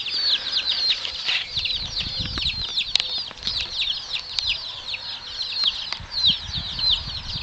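Young chickens clucking and chirping close by inside a yurt coop, quick overlapping calls, with occasional wing flaps and light rustling underneath.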